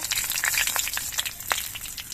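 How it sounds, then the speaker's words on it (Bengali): Bay leaves and dried red chillies crackle and sizzle in hot oil in a wok, a steady spattering hiss with frequent small pops, close by and moderately loud. "তেজপাতা আর শুকনো লঙ্কাটা একটুখানি ভেজে নিতে হবে"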